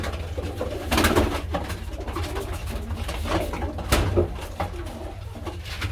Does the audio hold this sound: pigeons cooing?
yes